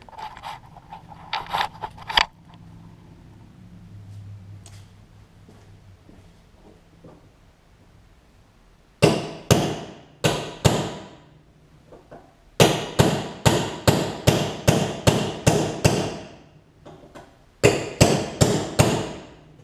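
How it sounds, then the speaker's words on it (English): Sharp metallic hammer strikes on a punch knock out a rivet on a Troy-Bilt Tuff Cut 200 mower, in quick bursts of several blows separated by short pauses, loud and close with a bright clanging ring. "So I'm knocking it out with a hammer."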